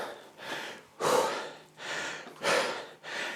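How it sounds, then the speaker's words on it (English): Heavy, rhythmic breathing from a rower cooling down after threshold rowing intervals: about five loud, close, breathy inhale-exhale cycles in quick succession. "I've been heavy breathing at you like a dirty phone call"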